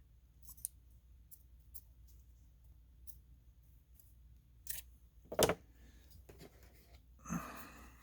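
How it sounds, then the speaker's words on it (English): Quiet room with a few sparse scissor snips and crisp cutting sounds through a polishing cloth, one louder crunchy cut near the middle, then a soft rustle. "Got a different pair of scissors here."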